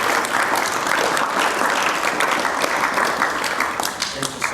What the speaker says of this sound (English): If everybody could just give a little clap for Dennis for...